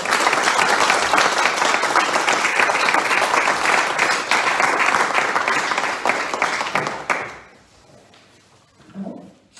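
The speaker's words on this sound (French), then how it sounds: "félicitations, bravo à vous, on peut les applaudir" Loud, dense applause fills a municipal council meeting, sustained for about seven seconds before cutting off quickly, then a quiet room with a few faint knocks and movements.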